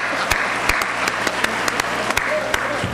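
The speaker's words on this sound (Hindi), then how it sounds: "उनके लिए एक बार जोरदार ताली बजा दो।" Audience at a Hindi kavi sammelan poetry recital bursts into steady, dense applause, many hands clapping together over a low room hum, with occasional louder individual claps standing out.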